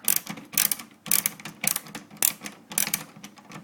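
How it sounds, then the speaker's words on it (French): A screwdriver unscrewing screws on a Nintendo NES console being opened for repair, giving close, rapid ratcheting clicks in repeated bursts separated by short pauses, with no talk. "je vais dévisser devant vous hein, pour montrer"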